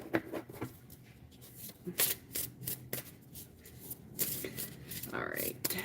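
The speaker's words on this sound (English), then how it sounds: "Because I found that shuffling the cards" Playing cards being shuffled during a live card-break sale stream, repeated soft riffling and brushing bursts, fairly quiet and close, with a person talking faintly over them.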